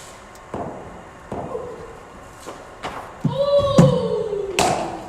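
Several sharp knocks of a cricket bat meeting balls fed from a bowling machine during front-foot batting practice, spaced a second or so apart, with a coach's voice calling out between them.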